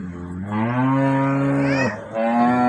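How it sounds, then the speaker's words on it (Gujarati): A cow moos loudly and close by, one long drawn-out low call followed by a second that starts after a brief break. "આ ગાય ખૂબ જ સારી છે"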